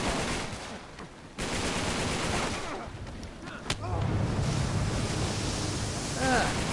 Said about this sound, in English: I can shoot the hell out of these guys